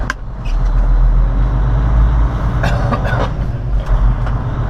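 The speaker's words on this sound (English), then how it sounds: "Let's roll this truck out of here." A heavily loaded semi truck with a reefer trailer pulls away, its diesel engine a loud, close, steady low rumble with rattles and clanks from the cab and trailer, and no talking.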